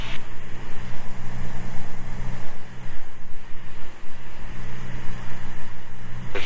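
Steady, loud wind-buffeted engine drone inside a Cessna 206 Stationair in flight on a breezy, gusty day, a continuous low rumble with hissing wind noise and no talk.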